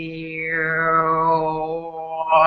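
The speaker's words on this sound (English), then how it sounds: "harmonic overtone sort of puts all those sounds together" A single sustained voice performs harmonic overtone singing, holding a steady low drone while bright whistling overtones glide down and back up above it, close and clear.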